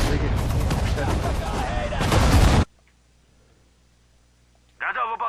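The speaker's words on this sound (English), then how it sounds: "Our long range artillery is pretty good." Long-range artillery fire in the Sudden Strike 4 war strategy game: loud, dense booming and crackling bursts, then near silence before another short burst returns at the end.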